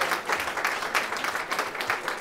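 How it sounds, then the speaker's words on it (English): Audience applause for a school color guard at a State of the Schools address, a steady wash of clapping lasting the whole moment at moderate distance with no speech over it. "Can I get a round of applause for our color guard"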